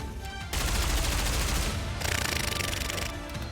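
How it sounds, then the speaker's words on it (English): A dense, continuous barrage of rapid gunfire from the video game NIKKE, fired by a Raptor, loud and sustained for several seconds with a brief shift midway and no voices over it. "The Raptor fires a barrage of bullets."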